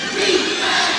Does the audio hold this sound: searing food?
no